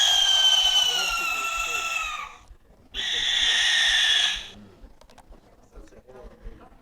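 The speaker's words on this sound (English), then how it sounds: "this is the sound of a barn owl." Two long, harsh, hissing barn owl screeches, loud and close, separated by a short gap and followed by quiet background.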